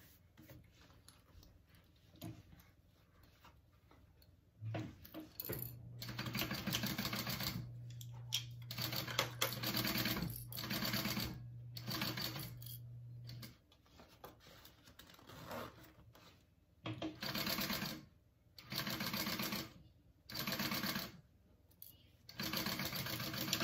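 A sewing machine bastes a crossbody wallet in several short bursts of rapid stitching, separated by quiet pauses and a few faint handling clicks, with no voices.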